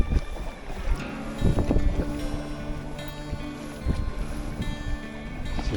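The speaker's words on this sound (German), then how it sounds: "Hier die Wellen stehen an der Stelle." River water churning in standing waves beside a canoe on a Lapland wilderness river, a rough rushing wash mixed with wind buffeting the microphone, fairly loud and continuous, with no speech.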